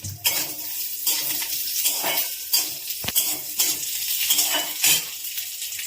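Cashews and raisins frying in desi ghee in a wok give a steady close sizzle, broken by repeated scrapes and clinks of a spoon stirring against the metal, with no talk.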